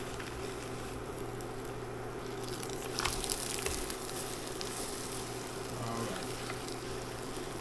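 A quesadilla sizzles steadily in a hot pan, a constant close crackle and hiss that swells briefly midway with a few louder pops before settling back to an even fry.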